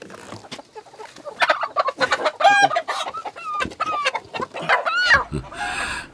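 Native Korean chickens cluck in a busy, close barnyard chorus, with sharp repeated calls, a few drawn-out crowing notes from a rooster, and scattered squawks overlapping throughout.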